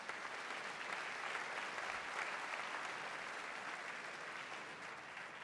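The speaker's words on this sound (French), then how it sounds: "vous pouvez l'applaudir aussi." An audience in Vichy applauds during the mayor's New Year address, a dense, steady wash of clapping from a large crowd that holds at an even level for several seconds.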